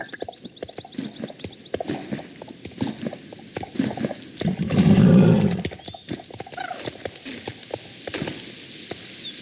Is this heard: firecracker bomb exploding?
no